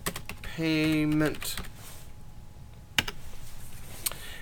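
Typing on a computer keyboard while entering an Excel formula, a few quick separate clicks that come after a short hum and a spoken word.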